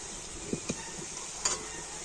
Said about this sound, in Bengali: আর এই হালকা গরম তেলের মধ্যে এবারে পিঠেগুলোকে ভেজে নিতে হবে।